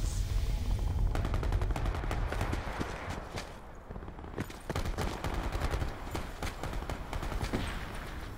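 Gunfire crackles in Call of Duty Black Ops 4, a series of quiet, distant sharp shots with irregular spacing, including sniper rifle fire, set against a low ambient rumble.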